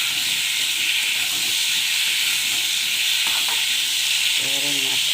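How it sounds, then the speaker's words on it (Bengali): Potatoes and onions frying together in a pan give a steady, close sizzle and hiss with light stirring scrapes. Brief utensil clinks come near the end. "পেঁয়াজ আর আলু একসঙ্গে ভাজা হয়ে যাবে"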